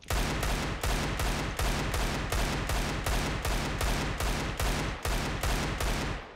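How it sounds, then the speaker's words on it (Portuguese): Rapid bursts of gunfire from a shooting video game repeat in a steady rhythm of loud, sharp shots, close and constant throughout with no one talking. "Agora eu vou tentar atirar mais rápido, ó."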